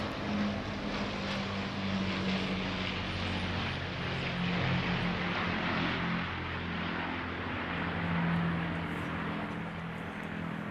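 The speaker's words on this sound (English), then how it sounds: "the Lancaster, one of the most successful RAF heavy bombers of the Second World War" An Avro Lancaster, a Second World War RAF four-engined heavy bomber, flies past over a ceremonial flypast in London, its propeller engines giving a steady, loud, sustained drone with no talking.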